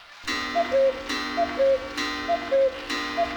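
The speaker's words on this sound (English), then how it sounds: "A pendulum-driven cuckoo clock with the cuckoo oddly absent." Pendulum-driven cuckoo clock in the video game Harvester, ticking in a steady, even rhythm with short tonal chimes marking each swing, close and clear with no talk.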